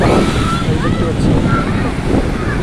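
Ocean surf rolling onto the shore, a loud continuous wash with wind buffeting the microphone.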